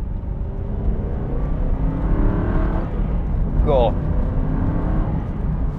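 Inside a low-mileage Aston Martin V8 Vantage, the exhaust booms loudly as the car accelerates after a downshift, rising in pitch over a steady engine rumble, with a brief spoken exclamation partway through.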